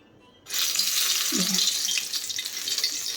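Pakoras sizzling in hot oil in a home kitchen, a loud, steady hiss that bursts in suddenly as the batter drops into the pan and keeps crackling without pause.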